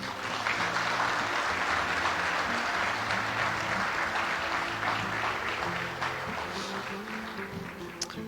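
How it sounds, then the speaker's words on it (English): A large audience at the Bangladesh Investment Summit 2025 applauds honorees, with sustained, dense clapping that fills the hall, stays loud throughout and eases slightly near the end, with a low musical drone underneath. "Let's give another big applause for them"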